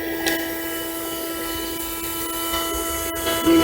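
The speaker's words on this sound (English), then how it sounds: "I mean, it's not a house vacuum" A shop vacuum runs continuously inside a van during insulation work, sucking up sheetrock dust and sawdust with a steady motor whine and hum, plus a brief clatter near the end.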